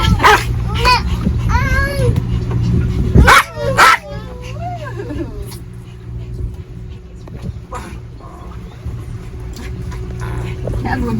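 A dog barks and yips aboard a sailing boat, a few short sharp barks in the first seconds, close and loud, while voices talk over a steady low hum of the boat.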